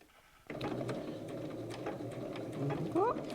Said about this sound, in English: Let's take it over to the machine. I actually reduced my stitch length as well to about 2 mil